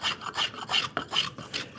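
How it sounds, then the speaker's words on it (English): A spokeshave shapes a wooden spatula in quick, rhythmic back-and-forth strokes, about six rasping passes in under two seconds, close and fairly loud with no talking. "sometimes you can use the spoke shave like this"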